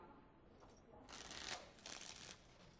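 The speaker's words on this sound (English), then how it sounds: "Before we start, the cards must be shuffled." Playing cards shuffled in a card minigame within the fantasy video game Dragon Age Origins, two bursts of crisp riffling close up, alone without talk.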